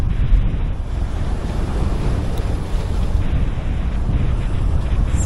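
Ocean waves wash onto a beach shortly before high tide, a loud, continuous roar of surf mixed with gusty wind buffeting the microphone, with no voices.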